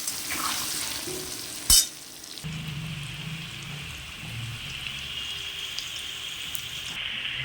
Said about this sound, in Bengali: এবার এই নুন হলুদ দিয়ে ভালো করে আমি আলুটাকে ভাজবো।